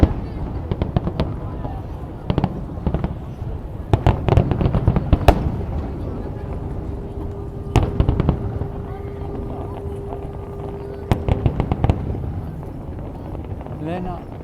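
Fireworks over Yokohama, seen from Osanbashi pier, burst in a run of loud booms and crackling bangs, sometimes in quick clusters and sometimes spaced apart, with people talking and exclaiming in between.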